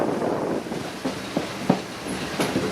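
A 1940 vintage train on the Hiawassee River Scenic Railroad rolls along with a low rumble, a few sharp wheel clicks and squeals over the track joints, plus faint wind noise, with no talk.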